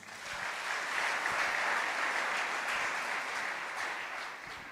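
A church congregation claps together in sustained, dense applause that swells and then slowly tapers, filling the space with a continuous patter of many hands.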